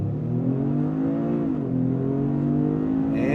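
A 2025 Toyota GR Corolla with automatic transmission launches hard from launch control, its engine note droning loud and steady with a slight dip mid-pull before climbing on, close and continuous with no talk.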